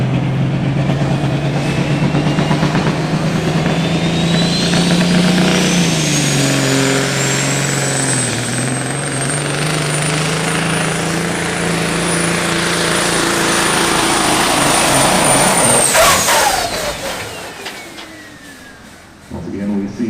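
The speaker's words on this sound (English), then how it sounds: "Second and final attempt for the full spool of Joe Giletto." A Peterbilt hot rod semi truck makes a pull at a 2022 truck and tractor pulling event at Summit Motorsports Park, with a loud sustained roar and a rising whine of a spooled turbo that drops off sharply before the engine cuts.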